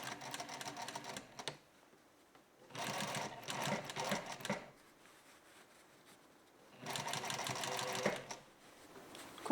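A sewing machine stitches the fly facing of wide-leg pants in three bursts of rapid mechanical whirring, each a second or two long and separated by quiet pauses, close and clear with no talk.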